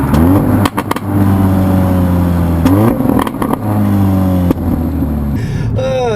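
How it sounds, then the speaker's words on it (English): A 2014 Mercedes-Benz CLA45 AMG turbo engine revs loudly and drops through gears, with sharp crackling pops from the exhaust on downshifts and some talk underneath. "you can hear when you downshift, it like crackles and pops"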